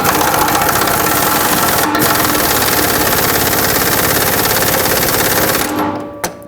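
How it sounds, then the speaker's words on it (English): A pneumatic air gun hammers on a rear upper control arm bolt of a 2007-2009 Saturn Aura, a loud continuous rattling burst that cuts off abruptly near the end, followed by a brief clank. "so I just made it as tight as I could with my air gun"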